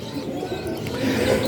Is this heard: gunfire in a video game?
no